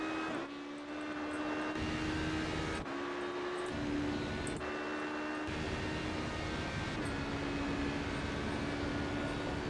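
A Le Mans race car's engine heard from onboard during a 6-hour race, a loud, continuous drone whose pitch climbs steadily and then drops sharply at each gear change, repeating through several upshifts.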